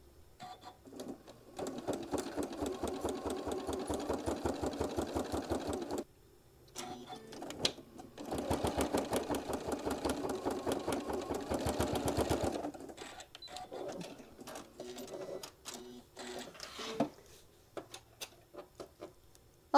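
Top stitching across a mini iron travel case, a sewing machine runs in two sustained bursts of rapid rhythmic stitching separated by a brief pause, followed by scattered clicks and short runs of handling.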